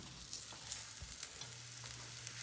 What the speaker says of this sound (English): Just see the sizzling oil and the ghee sizzling